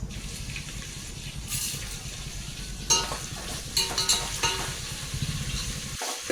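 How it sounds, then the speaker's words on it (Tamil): Chopped onions frying with salt in a pan for beef biryani give a steady, close sizzle throughout, with a few brief clinks of a utensil partway through. "உப்பு ஆட் பண்ணும்போதுங்க நல்லா வந்து நம்ம வெங்காயம் வந்து சீக்கிரமாக வதங்கிடும்"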